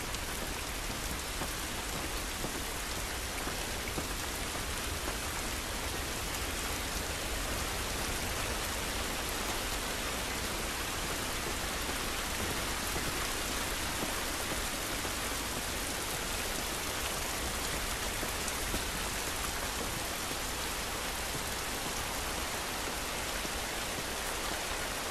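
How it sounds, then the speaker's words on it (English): Heavy rain pours down outdoors in the video game The Last of Us Part 2, a constant, dense hiss of drops on surfaces that stays loud and unbroken from start to finish. "This rain ain't gonna do us any good."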